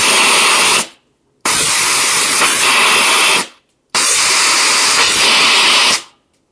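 Rocket motors on an R/C JATO rocket car fire in two long, loud roaring hissing bursts of about two seconds each, with a brief silent gap between them and a fade at the end of each burst.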